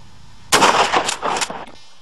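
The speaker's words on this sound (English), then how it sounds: "Next, place the firearm near your right shoulder. Look down the barrel. Now, fire." A shotgun fires at clay pigeons outdoors, a loud close burst of rapid cracks lasting about a second, heard on its own with no talk.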